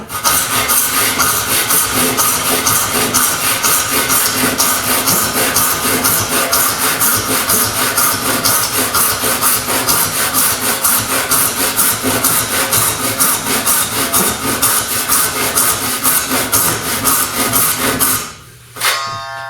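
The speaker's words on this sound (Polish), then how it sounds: "Jestem już całym brzeszczotem w materiale. No i teraz kierujemy i tniemy." A Japanese Kobiki Deluxe 450 pull saw cuts through wood in fast, even strokes, a close rhythmic rasp that keeps going for about eighteen seconds before it stops abruptly.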